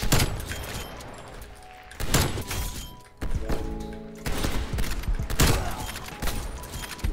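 Video game gunfire in a two-versus-one shootout, with repeated loud bursts and impacts about every second over continuous background noise.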